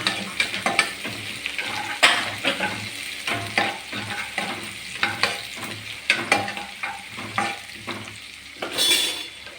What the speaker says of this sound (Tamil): பச்சை மிளகாய் நல்லா வதக்கி விடலாம்